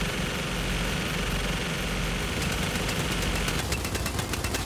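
Gunfire raking the engines in Gears 5, a sustained rapid automatic burst with crackling shots picking up in the last second over a constant low engine rumble, loud and dense throughout.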